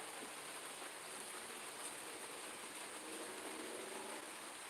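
Steady, soft hiss of rain falling outdoors after days of rain, constant throughout with no voices, a faint continuous wash of droplets.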